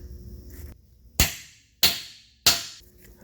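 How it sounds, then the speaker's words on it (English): Three sharp, loud hammer blows ring out on a battery cable crimper, evenly spaced about half a second apart, each with a quick metallic decay, after a brief low hum. "we're just going to slide it in right there and hit it with a hammer"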